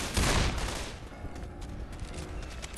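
Gunfire from the video game Left 4 Dead, The Passing: a loud burst of rapid shots at the start, then scattered smaller reports and clatter over a dense background, ending with another sharp bang.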